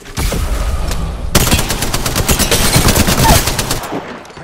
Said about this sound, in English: Hey, I'm getting shot.